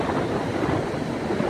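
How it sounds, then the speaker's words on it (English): Ocean surf at a beach on a breezy day rushes continuously, a steady broadband wash mixed with wind buffeting the microphone, with no talk. "The waves are, I don't know, maybe 3 feet, 4 feet."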